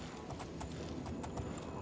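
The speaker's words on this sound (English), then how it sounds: "I should like to ride my horse for just a minute." Horse hooves clip-clop in a quick, even rhythm as a horse is ridden in the Oblivion video game with the Oscuro's Oblivion Overhaul mod, moderately close and fairly soft.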